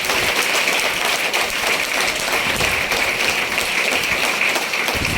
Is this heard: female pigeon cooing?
no